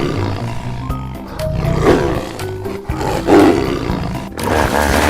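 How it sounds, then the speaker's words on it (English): A tiger roars in deep, rough bursts that swell and fade across the clip, loud and close with no talking. "Tiger."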